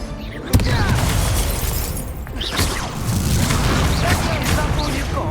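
Fiery Confringo blast spell exploding in the Hogwarts Legacy video game, a sharp boom near the start followed by dense rumbling combat noise and further bursts, with voices mixed in.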